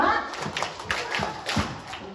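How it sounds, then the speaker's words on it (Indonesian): A group of children clapping together in a rhythmic count at a school Friday morning gathering, a run of sharp claps repeated in quick succession, with an adult voice speaking over them. "tepuk 1, tepuk 2, tepuk 3, tepuk 4, tepuk 5"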